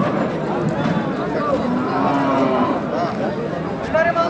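Bulls lowing at a crowded Saturday cattle market in Chakan, heard amid steady chatter of traders and buyers, with a few moos rising above the din.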